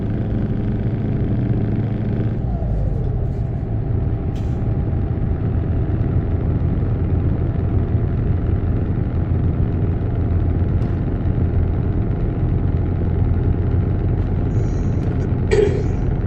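Simulated truck engine from Euro Truck Simulator 2 drones at a low, steady pitch throughout, a continuous near rumble with a brief shift early on and no talking.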